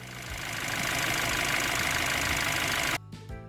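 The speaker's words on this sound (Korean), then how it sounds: "작업을 마치고 이제 시동을 걸어봤습니다" A car engine idles after new ignition coils and spark plugs were fitted, a steady, close, even hum that cuts off abruptly near the end.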